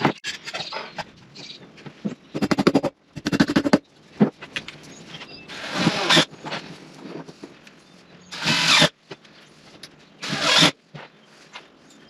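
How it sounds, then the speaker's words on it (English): Power drill boring holes for wiring in a shed being converted into a tiny house: several short, loud whirring bursts separated by pauses, with clattering handling noises in between. "I drilled the holes and ran that wire"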